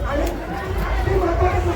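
Brief burst of a village festival crowd in procession, a loud steady wash of chatter and shouting voices close around.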